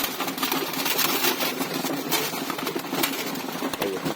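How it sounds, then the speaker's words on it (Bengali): Pigeons peck at dried corn kernels, a rapid, uneven patter of sharp clicks and taps close up, mixed with a steady low cooing from the flock. "এই যে দেখেন আমার কবুতর ভুট্টা কিরকম পছন্দ করে"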